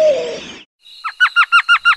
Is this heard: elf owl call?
yes